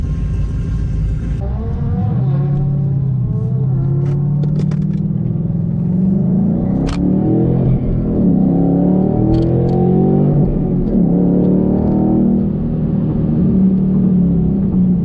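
A Corvette driving around the infield track at Pocono Raceway, its engine a steady loud drone with rising and falling revs and a faint rattle, heard from inside the car with no talking.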